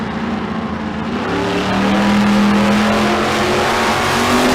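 Drag racing cars, including a 1971 Datsun, launch and accelerate at a dragstrip, with a loud, rising engine roar that builds and holds steady as the cars pull away, with no voices.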